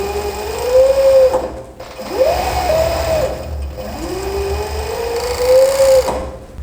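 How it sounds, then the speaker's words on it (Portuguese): An overlock serger stitching a pocket through three layers of fabric, running in rapid whirring bursts with short pauses between them, close and fairly loud, with no talking. "E passo a overlock nos 3 tecidos."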